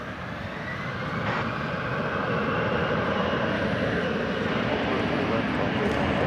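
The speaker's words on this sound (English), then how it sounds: "You hear a plane taking off there." An airliner taking off at DFW Airport sends a steady, loud engine roar that builds slightly and holds as a broad continuous rumble, with talk running over it.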